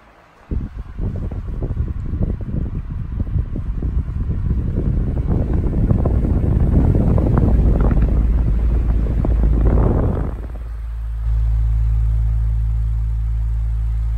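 A 2004 Hampton Bay 18-inch fan running on high speed gives a loud, steady rushing roar of moving air and motor hum, then drops to a softer, lower drone as the speed changes near the end.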